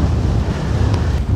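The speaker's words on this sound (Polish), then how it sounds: "I tak wieje." Wind blows hard across a mountain summit in the Lake District, a loud, constant low rumble of gusts buffeting the microphone, heard alone without any talk.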